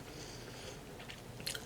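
Close, quiet chewing and biting of Japanese ramen during a mukbang, soft wet mouth sounds ending in a brief crisp crunch.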